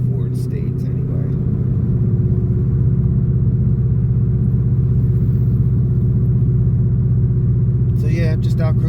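Ford Mustang GT V8 cruising, a steady loud low rumble from inside the car that holds even throughout, with someone talking briefly over it at the start and end.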